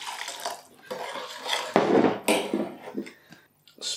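Water is poured into a bowl of trifle ingredients with sugar and sherry, in splashy bursts, mixed with clinks of dishes and utensils, stopping and starting a few times.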